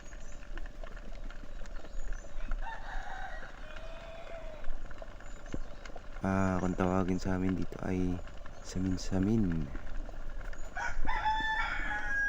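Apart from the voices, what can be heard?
rooster crowing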